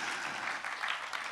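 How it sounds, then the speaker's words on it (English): Dense, continuous applause from an audience at an African panel discussion, a steady wash of many hands clapping at moderate volume with no voices over it. "Let's clap for her."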